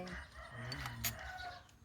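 Chickens cluck and a rooster calls close by in a short burst, loud and clear over a low background with faint voices.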